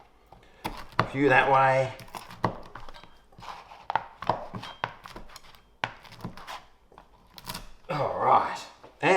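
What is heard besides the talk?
cutting leftover pizza into fork-sized pieces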